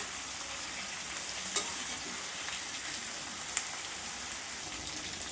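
Eggplant sautés gently in a pan for chutney, a soft, even crackling sizzle at low volume with a couple of sharp utensil taps against the pan.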